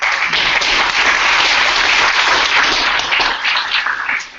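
A conference audience at an academic talk on altmetrics gives a thick, steady round of applause that holds loud throughout and tapers off at the end.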